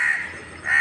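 A single crow gives a harsh, drawn-out caw close by, loud and clear with no talk over it.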